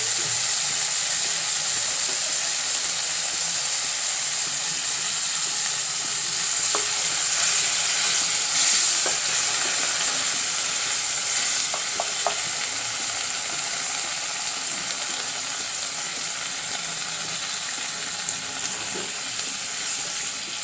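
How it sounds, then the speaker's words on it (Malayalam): Water splashed into a simmering chickpea curry, the pan hissing and sizzling continuously while a spoon scrapes and stirs in a few short clinks. "ഇതിനകത്ത് കുറച്ച് വെള്ളം ഒഴിച്ച് കൊടുക്കാം."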